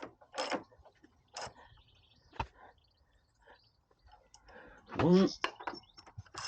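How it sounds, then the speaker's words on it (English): Nuts being tightened onto a shock absorber on a BSA Goldstar 650 motorcycle: a few separate metallic clicks and scrapes with quiet gaps between them, and a brief spoken word. "Let's get these nuts back on and properly tightened."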